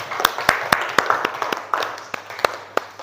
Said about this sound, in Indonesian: Silakan tepuk tangan untuk Kelvin.